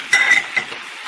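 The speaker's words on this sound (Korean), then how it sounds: "이러면 등골에서 나온 양념이 이렇게 지글지글 끓잖아요." Seasoned dried pollack sizzles in a pan over very low heat as its seasoning bubbles, making a brief, close, crackling hiss with a few small pops that quickly fade.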